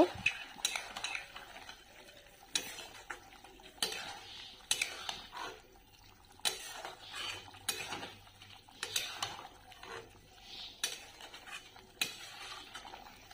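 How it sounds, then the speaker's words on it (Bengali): A spoon works ground mustard paste into a bean chochori curry in a metal pot, giving repeated soft scraping strokes and clinks in an uneven rhythm, moderately quiet and close. "এখানে আমি দিয়ে দেব বেটে রাখা সর্ষে, এভাবে ভালো করে মিশিয়ে নিব"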